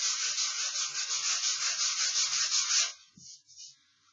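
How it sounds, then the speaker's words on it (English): Sandpaper rubbing over a wood-burned image on a wooden surface: a steady, close, rhythmic scratchy rasp for about three seconds, then stopping, followed by faint handling sounds. "you can lightly sand because it does go down slightly into the wood"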